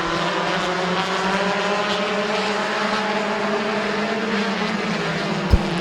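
Race cars thundering around the oval at Midvale Speedway right after the green flag, a loud, steady blend of roaring engines that holds throughout, with one brief sharp thump near the end.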